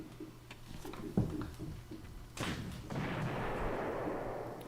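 Artillery firing in a video game battle at Sevastopol, a sharp thump followed later by a heavier boom that rolls into a long, rumbling wash of distant fire and explosions.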